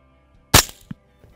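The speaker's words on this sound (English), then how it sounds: "I'll shoot the front one when he gets up here" A single loud, sharp rifle gunshot fired while hunting, a sudden crack with a brief trailing echo in quiet open surroundings, followed by a faint thump.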